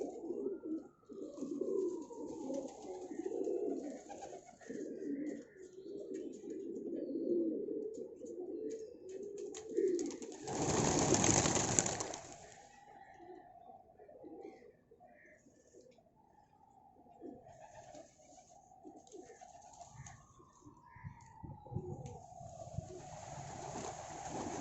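Young pigeons cooing steadily in a pigeon loft, layered soft coos repeating throughout, with a burst of louder noise around the middle and faint ambient sounds, no speech.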